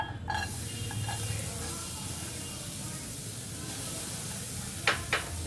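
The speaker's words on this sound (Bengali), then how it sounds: "প্রথমে আমি পেঁয়াজ কুচি দিলাম" Chopped onions hiss and sizzle steadily in a hot pan, a soft constant frying noise at moderate distance, with a few sharp clicks of utensils near the end.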